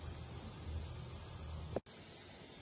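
Steady aerosol spray hiss while an engine oil pan is coated in blue paint, continuous and fairly close, with a brief click and pause near the end.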